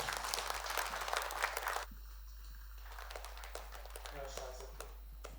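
An audience applauds to welcome a contestant onto the stage at a singing competition's preliminary round. A dense burst of clapping lasts about two seconds, then drops away under music.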